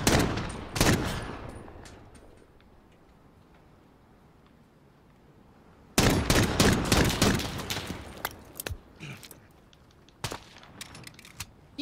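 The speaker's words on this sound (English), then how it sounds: "I shoot 4 bullets before I even know if I hit anyone or not." Gunfire in the battle royale shooter Modern Warfare Warzone during a 1v1v1 fight: a couple of sharp shots, a quiet stretch, then a loud, rapid volley of close shots that thins into scattered single cracks.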